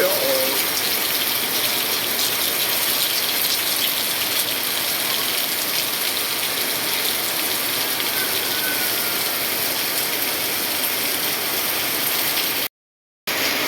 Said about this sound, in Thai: ฝนตกครับ วันนี้ฝนลงแรงมากเลย